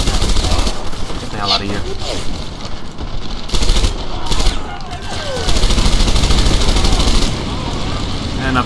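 Rapid bursts of Tommy gun fire in the World War II shooter Medal of Honor Airborne, a fully upgraded weapon, crackle amid battle noise with shouting voices over the fighting.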